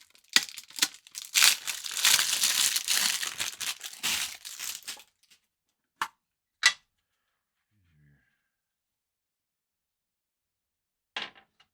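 Unboxing of the Delve for Shadowdark RPG box, loud close crinkling and crumpling of packaging for about five seconds, then a few isolated sharp rustles and taps separated by silence.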